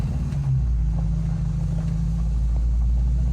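A vehicle driving slowly up a rutted, washed-out dirt driveway that has been regraded, a steady low engine rumble with faint bumps throughout.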